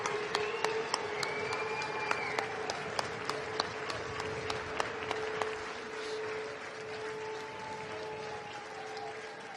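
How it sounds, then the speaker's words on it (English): Applause for the players at a Manchester Remembers charity football match, Legends versus Celebrities, rising from a crowd as steady, moderately distant clapping with a few sharper nearby claps across the whole stretch. "Big round of applause, everyone, for all our players today."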